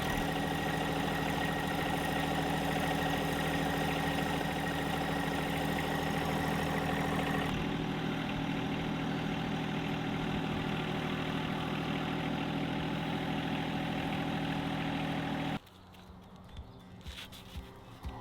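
A tractor engine idles with a steady, rumbling drone that shifts in tone partway through, then drops away to quieter background clatter near the end.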